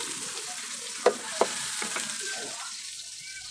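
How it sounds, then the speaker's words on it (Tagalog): Sautéing in a little cooking oil, a steady low sizzle with two sharp utensil knocks near the start, close and moderately loud, without voices. "So gigisahin muna natin kung konting mantika no."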